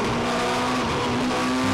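Race cars braking hard into a corner at Kirkistown circuit during an NI Sevens Challenge race, loud sustained engine roar with shifting tones and tire noise, close by.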